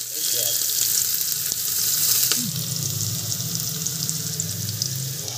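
Cumin and chopped onion sizzle steadily in hot oil in a home kitchen pan, a constant loud crackle with occasional clinks of stirring.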